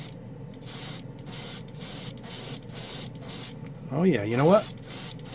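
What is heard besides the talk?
speed drying acrylic paint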